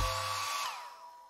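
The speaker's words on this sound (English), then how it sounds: "Then I'll use the hairdryer to spread it out." Hairdryer blowing on wet acrylic paint to spread it, a brief whirring blast that winds down over about a second with its pitch falling, faint and close, followed by a soft click.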